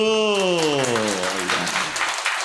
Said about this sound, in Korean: 축복의 박수